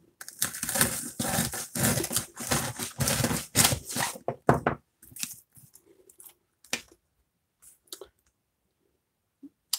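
Knife cutting through candy apples, crisp crunching and cracking of the hard candy shell in a dense run of cuts, then scattered sharp clicks and taps trailing off into quiet, close up.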